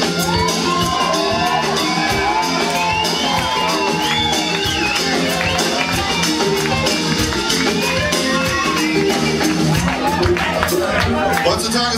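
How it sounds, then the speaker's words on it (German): A crowd cheers and shouts for a dancing grandmother, dense whoops and calls layered over loud, steady music throughout, with scattered claps. "Und die Massen jubeln ihr zu."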